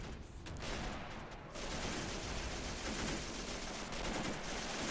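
Dense, continuous machine gun fire with heavy artillery rumbling underneath in the Men of War game, a German invasion of Poland in 1939 battle, loud and unbroken after a brief lull at the start.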